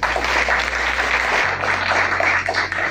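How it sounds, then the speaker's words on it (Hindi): An audience in a meeting hall claps together in a steady, dense round of applause, with a low hum underneath. "तो एक बार अपने लिए तालियां हो जाए"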